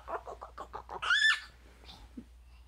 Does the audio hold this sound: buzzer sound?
no